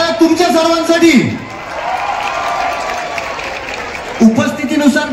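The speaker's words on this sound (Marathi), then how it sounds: "एकदा जोरदार टाळ्या तुमच्या सर्वांसाठी." Applause and cheering from a crowd at a Ratnagiri dandiya night held at Hotel Vivek, a broad steady clatter of clapping lasting several seconds while an announcer speaks over a PA at the start and end.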